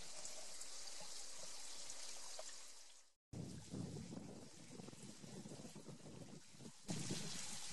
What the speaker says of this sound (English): that little bit of water flowing in there